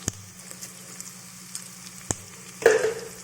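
Brinjal biryani fries in a pan with a low, steady sizzle, broken by a few sharp utensil taps and a louder burst of sizzling and stirring near the end as spices are added.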